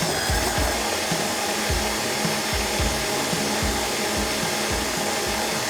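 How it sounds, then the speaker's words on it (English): Electric hand mixer whirring steadily as it beats white layer cake batter with egg whites and vanilla in a bowl, a continuous close buzzing drone with rhythmic scraping pulses throughout, no voices. "We're gonna mix that all together."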